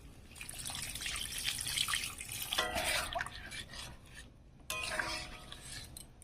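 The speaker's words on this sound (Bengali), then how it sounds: "এবার এখানে কিন্তু আমি জল দিয়ে দেবো।" Water pours into a pan of spiced cauliflower and paneer, a close, splashy rush that swells and breaks off, then resumes briefly with a few faint clinks.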